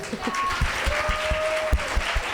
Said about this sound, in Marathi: टाळ्या तर वाजवा